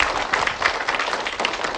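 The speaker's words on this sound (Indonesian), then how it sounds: "Tapi tepuk tangan dulu jujur ya." Audience at a religious study session claps briefly, a brisk, even burst of applause with no voices over it.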